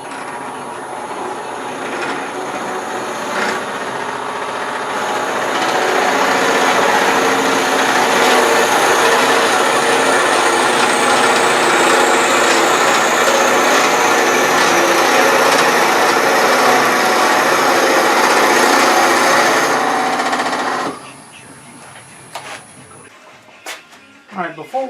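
A wood lathe drills into a miniature wooden bird house at under 1,000 rpm, a loud steady whine and grinding that swells, holds for about twenty seconds, then cuts off abruptly, leaving faint handling noises.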